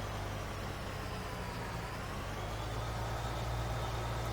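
A corn picker's engine drones in Farming Simulator 19, a steady low mechanical rumble that holds constant throughout with no pauses or talking.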